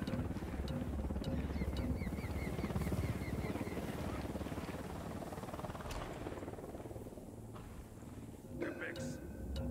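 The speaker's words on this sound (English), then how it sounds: "Hit the dirt. Helicopter." Helicopter in the video game Ghost Recon Wildlands, a steady droning rotor wash that runs loud through the whole stretch, with gunfire-like bursts and game sounds layered over it and voices talking.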